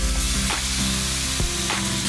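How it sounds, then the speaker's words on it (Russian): Skin-side-down chicken breast frying in a hot pan, giving a loud continuous sizzle and crackle close up, with faint scraping or shifting sounds now and then and no talking. "теперь нам нужно ее обжарить на нашей сковородке"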